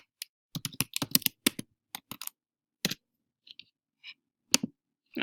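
Quick, crisp keystrokes on a computer keyboard come in an irregular flurry of clicks, then a few sparse presses, close and clear with no talk.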